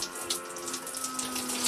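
Water gushing steadily from a shower pipe just freed of a blockage, a close, continuous splashing flow with a faint steady hum beneath it.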